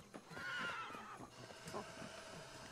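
A horse neighs and whinnies in the prehistoric survival game Ancestors: The Humankind Odyssey, a fairly faint, drawn-out call with a few snorting breaths after it, with no voices.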